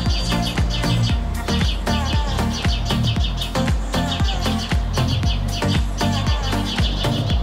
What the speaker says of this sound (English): Those are the birds alerting that Artemis is around.